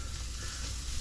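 Garlic and onion fry in a pan for a moment, giving a dense, steady sizzle close by, with nothing else over it.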